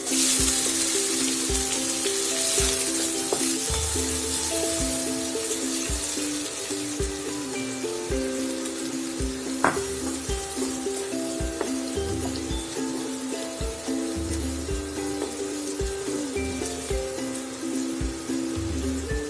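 Onions sizzle quietly in a pan, a continuous soft crackle with a faint steady hum beneath it, occasional light clinks, and no voices.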